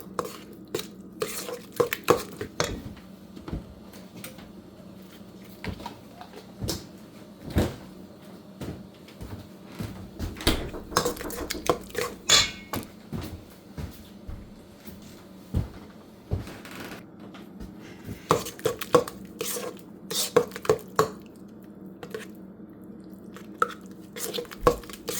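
Pineapple upside-down cake batter being beaten in a bowl, with irregular clinks and scraping taps of the utensil against the bowl coming in bursts over a quiet kitchen background.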